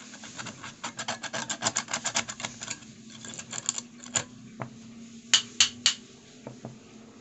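A rust scraper rasps in quick rhythmic strokes, a close scratchy run that slows into a few separate louder scrapes, with no talk.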